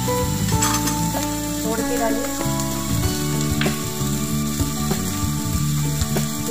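Onion and chicken roast in a hot pan in a chicken curry dish, giving a dense, continuous sizzle up close with stirring scrapes throughout. A voice speaks briefly over it.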